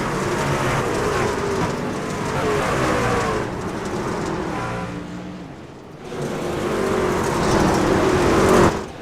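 Racing trucks roar at full throttle around the Eldora dirt track in iRacing, a dense, loud, continuous engine drone that briefly dips before swelling again toward the end.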